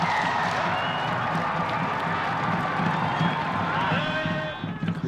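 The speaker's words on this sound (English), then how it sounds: "going to be try number 2 for Lee Jae Bok, and listen to this crowd." Roaring stadium crowd cheering and clapping after a try in a Korea versus Hong Kong rugby match, a broad steady din with scattered shouts and whistles beneath it.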